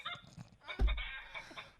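Chickens kept inside an apartment living room, heard as a brief run of honking, clucking fowl calls with one louder burst in the middle, fairly close and standing alone.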